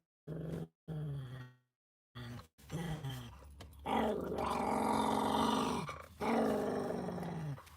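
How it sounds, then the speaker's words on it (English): A dog growls in several low, rumbling bursts separated by brief silences, close by, the later growls longer and louder. "Why are you causing ruckus? And growling at Mr. Miles Davis."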